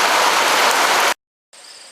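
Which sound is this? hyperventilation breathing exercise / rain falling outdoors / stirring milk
rain falling outdoors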